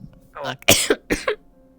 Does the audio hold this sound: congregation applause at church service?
no